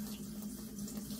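A tap runs at full pressure, rinsing a freshly caught fish while it is being cleaned; the water makes a steady, close, loud splashing rush with no break.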